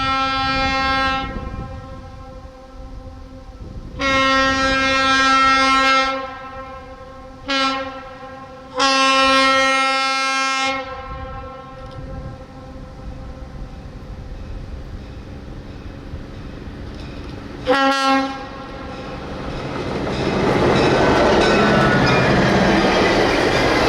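Reading and Northern F unit diesel locomotives pass on a rainy day, sounding several loud chime horn blasts of varying length, then rumbling and clattering steadily louder as they draw near.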